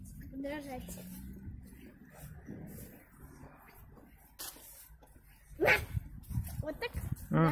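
A person imitates a barking dog during a street walk along Vladimirskaya Street in Anapa, giving a few short, loud yelping barks near the end, mixed with conversation and outdoor street noise.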